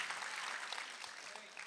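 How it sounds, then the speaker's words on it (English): Church congregation clapping during a worship service, a dense continuous patter of many hands at steady loudness with no voices over it. "The Son, clap a little bit louder"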